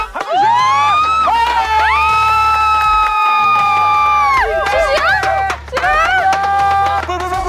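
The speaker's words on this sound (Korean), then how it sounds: "지금 함성을 지르지 마라. 시끄러워요. 귀 아파요." Children at a football game session shout and cheer loudly and continuously at close range, a dense high-pitched wall of young voices with sustained squeals and whoops, briefly dipping before surging again.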